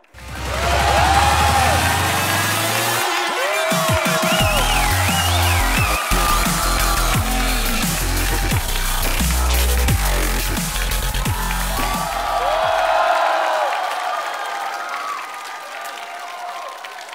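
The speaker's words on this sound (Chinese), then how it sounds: "我们掌声有请李璐。" Studio audience applause and cheering on a Chinese celebrity roast comedy show, loud and sustained for most of the stretch, mixed with upbeat stage music before fading out.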